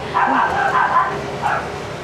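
Dogs bark on a street, a few short yips and woofs at mid distance in two bursts over faint outdoor ambience.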